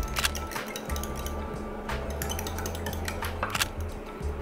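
Eggs being cracked and whisked in a bowl, soft repeated clinks and taps of a utensil against the bowl over a low steady hum.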